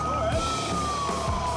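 A warning siren from the Westpac rescue helicopter over Bondi Beach holds a long, slowly falling wail, loud and steady over dense background noise.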